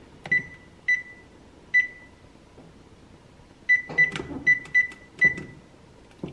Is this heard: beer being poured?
no